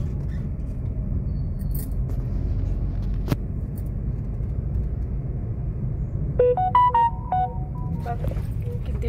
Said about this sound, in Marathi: किती ट्रॅफिक आहे. बापरे खूपच ट्रॅफिक आहे.